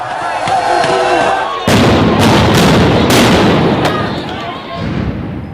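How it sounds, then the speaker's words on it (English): Police fire stun grenades and water cannons at protesters, with sharp loud bangs bursting over a roaring, shouting crowd and rushing noise. "They fired water cannons and stun grenades."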